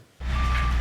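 A voice imitates a vehicle's reversing alarm with a steady, sustained electronic-style beep tone, loud and close, delivered alone in a studio setting.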